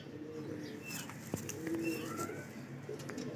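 Baby Parwazi pigeons at a bird sale in Lahore coo softly, with low close calls and faint chirps over light background noise.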